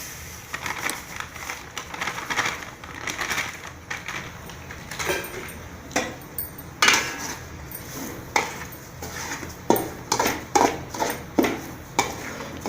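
Semolina roasting in oil in a pan for rava laddu, stirred with a spoon that scrapes and knocks against the pan in irregular taps, growing more frequent toward the end.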